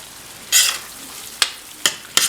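Curry leaves tossed into a frying ridge gourd and dry prawn curry crackle in a sharp burst of sizzling, followed by three brief, loud spits against a faint background hiss.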